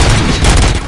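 Gunfire from the video game RoboCop: Rogue City, a dense, loud burst of overlapping shots and booms filling one short second.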